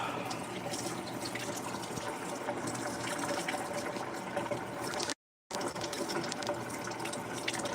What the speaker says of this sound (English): Heat up some water.